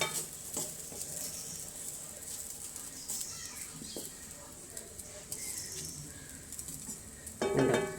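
Upma being stirred and pressed down in a pan, with soft scraping and faint sizzling close by, scattered light clinks of utensil on metal, and a louder clatter near the end.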